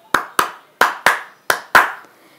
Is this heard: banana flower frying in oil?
no